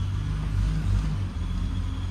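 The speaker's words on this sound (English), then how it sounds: "she's idling a little bit high and I think she's running a little rich" A 1973 Triumph TR6 engine idling slightly high and running rich, a close, steady low rumble with a brief dip partway through.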